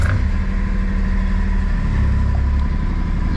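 Cold start of a small Suzuki Jimny or Mitsubishi Bravo engine, settling into a steady, fairly loud idle with an even low rumble close to the microphone, no talk.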